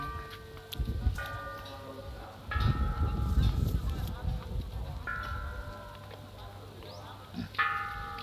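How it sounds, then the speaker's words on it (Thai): Temple bells at a Thai hilltop temple in Mukdahan are struck several times, each a clear ringing tone that decays slowly, with a voice talking and low ambient noise in between. "มีระฆัง"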